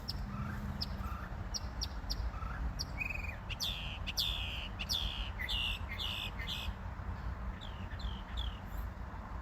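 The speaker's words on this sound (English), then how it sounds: "It's a bird like 5 feet away from me." A single bird about five feet away pours out varied chirps, whistles and squawks in irregular bursts, close and clear over a steady hiss of background noise.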